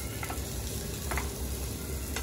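Almonds, cashews and raisins sautéing in a pan until golden brown: a steady close sizzle with faint clicks of nuts being tossed, no talking.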